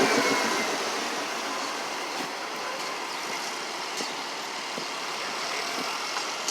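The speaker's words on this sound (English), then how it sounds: "So that's the buses that are doing the route that the trolleys would normally do." MBTA city buses replacing Green Line trolleys near Heath Street during track repairs rumble past outdoors, a continuous broadband traffic roar with faint clanks and bumps and no speech.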